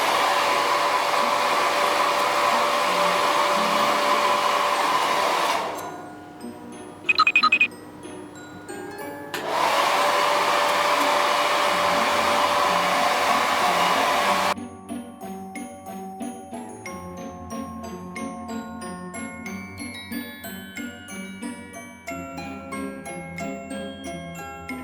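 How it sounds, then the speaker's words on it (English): A blow dryer on the hot setting runs loud and steady at close range for several seconds, cuts out briefly, then runs again before stopping. No one talks. "Make sure your blow dryer is on hot."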